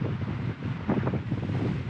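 Strong wind gusting over a lake buffets the microphone during kayak fishing, a constant low roar with rumbling swells, steady and close throughout with no talk.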